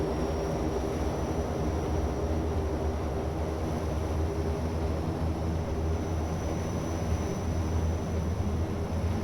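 Dash 8 Q400 turboprop in a flight simulator game powering up for takeoff, a loud, even engine drone with a steady hum that stays constant throughout.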